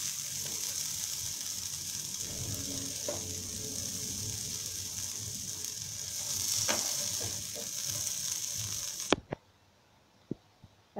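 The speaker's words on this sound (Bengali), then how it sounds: "এবার বেগুন লাল হয়ে ভাজা হয়ে আসলে নামিয়ে নিই।" Brinjal slices frying in hot oil give a continuous bright sizzle with occasional crackles and a clink of utensils, then the sizzle stops abruptly near the end, leaving a few faint taps in quiet.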